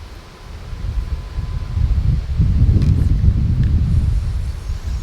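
Wind rushes past the microphone at a feeder-fishing spot for white fish, a continuous low roar that builds after the first second and holds steady and fairly loud, with faint higher rustling over it.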